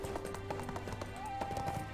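Horse hooves clip-clopping in the ArcheAge game, a steady run of quick, close taps over a continuous bed of game music and ambience.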